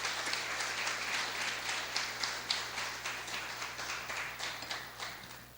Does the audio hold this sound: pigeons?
no